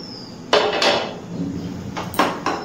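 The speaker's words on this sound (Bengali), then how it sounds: "ঢাকনাটা খুলে নিচ্ছি।" A metal lid is lifted off a cooking pot on a gas stove turned to low, with a few sharp clanks and scrapes in quick succession close by.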